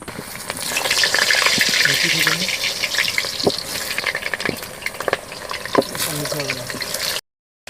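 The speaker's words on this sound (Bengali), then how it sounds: "কড়াইয়ে তেল গরম হয়ে গিয়েছে, এবার আমি আলুটা ভেজে নেব।" Potato pieces frying in hot oil in a wok, a loud bubbling sizzle with stirring scrapes, close by and partly overlapped by a speaking voice.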